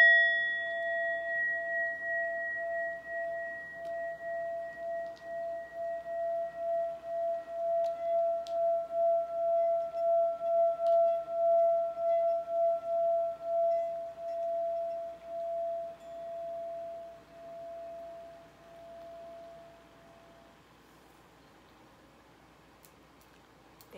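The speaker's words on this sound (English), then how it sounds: "I'm gonna do one big ring of my bell here" A single meditation bell struck once, ringing out with clear sustained tones that pulse gently as they slowly fade over about twenty seconds in a quiet room.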